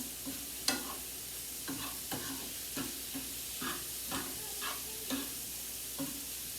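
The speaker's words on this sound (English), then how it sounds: "See how that garlic's getting now? It's not burning, but it's getting nice and caramelized" Garlic cooking in a pan, caramelizing without burning, gives a quiet steady sizzle broken by repeated scraping stirs at a loose, regular rhythm, with no one speaking.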